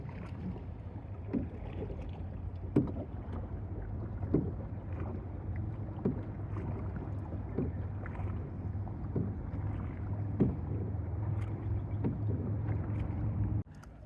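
A canoe glides across calm water on Lake Tahoe, Nevada, with steady low hum of movement and wind, punctuated by soft periodic knocks or paddle strokes every second or so.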